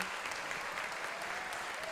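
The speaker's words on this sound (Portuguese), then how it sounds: "Dá uma salva de palmas para o teu Deus." A church congregation at Igreja Nova Sião clapping together in a dense, sustained round of applause, loud and continuous for the whole moment.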